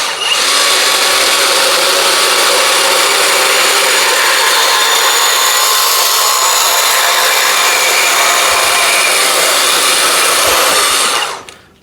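A VEVOR 20V 360W cordless portable band saw cuts through a piece of exhaust pipe, a loud continuous whining buzz that holds steady for about eleven seconds before cutting off abruptly.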